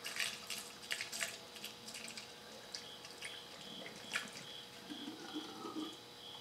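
Coolant pours into the radiator of a 2009 Kawasaki KLR motorcycle, a soft steady trickle with light splashing and drips, close by and fairly quiet, with no talk over it.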